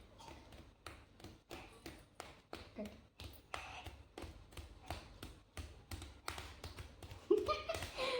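Hands tapping on a head during an oil head massage, a steady run of quick, fairly close slaps in an even rhythm, with voices talking over the beats.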